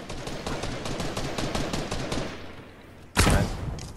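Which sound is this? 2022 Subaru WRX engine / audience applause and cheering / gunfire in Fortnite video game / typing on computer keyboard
gunfire in Fortnite video game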